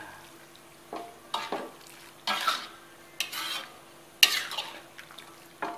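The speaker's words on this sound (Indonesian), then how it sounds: "Kita aduk sampai benar-benar matang" Bamboo shoot stir-fry being stirred in a pan with sugar and seasoning, a series of separate scraping, clinking strokes of a utensil against the pan over a faint sizzle, fairly close and moderately loud, with no talking.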